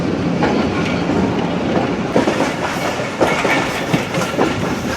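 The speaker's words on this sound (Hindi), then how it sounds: "ट्रेन हमारी पटिजन रेलवे स्टेशन से अब पास हो रही है" Pak Business Express passenger train running past a railway station between Rohri and Karachi, heard from on board as a steady, loud rumble with rhythmic clickety-clack of wheels over rail joints throughout.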